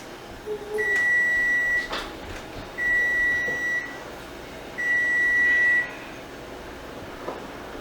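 A kitchen timer sounds three separate electronic beeps, each about a second long and evenly spaced roughly two seconds apart, over a quiet room background with faint clatter.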